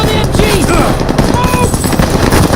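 Sustained, loud machine-gun fire from a mounted MG in the video game Call of Duty: Vanguard, a rapid continuous rattle of shots close by with shouted voices over it throughout.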